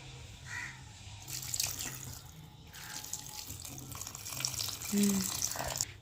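Water is poured into a pan of cooking cucumber and tomato curry, a steady splashing and running-water wash over a low background hum, with a brief voice in the middle.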